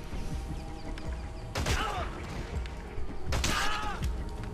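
Gunfire in Metal Gear Solid V: two bursts of loud crashing impacts and shots stand out over a busy background of game noise and scattered thuds.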